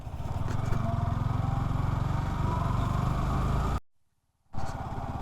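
A Yamaha R15 V4 motorcycle rides off-road on a monsoon trail near Lonavala. The engine drone is loud and close and continuous, with a rough buzzing texture, then cuts out briefly before roaring back.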